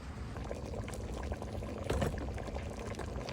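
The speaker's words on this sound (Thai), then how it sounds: "มันเดือดแล้วนะครับ" A pot of Thai khi lek curry with beef hide, cooked with rice, boils at a quiet, steady simmer, with soft continuous bubbling and no voices.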